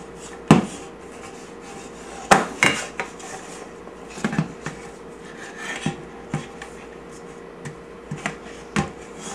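Butter being smeared by hand into a cake pan for a vegan chocolate cheesecake, with soft rubbing and repeated sharp metallic taps and clinks of the pan at irregular intervals, close and fairly quiet.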